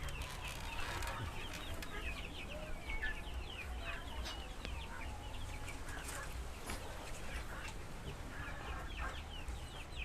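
KUB chickens about one and a half months old clucking steadily inside a coop, many birds overlapping in a continuous farmyard chatter with scattered nearby calls and a low background hum.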